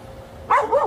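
A K9 dog in antiterror training gives two quick, loud barks close by, sharp and yelping, after a moment of near silence.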